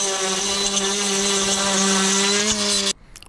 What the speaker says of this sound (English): Absolutely love the edger attachment on the multi-tool.